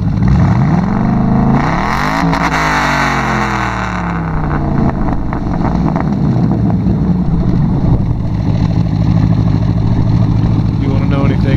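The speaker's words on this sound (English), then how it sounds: "Take a walk back to the back and let you listen to the exhaust." A 2004 Cadillac CTS-V with blacked-out exhaust tips revs hard, its loud sweeping roar climbing and falling before settling into a steady idle rumble, with brief talk nearby.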